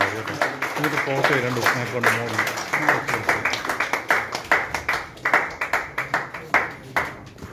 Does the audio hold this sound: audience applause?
yes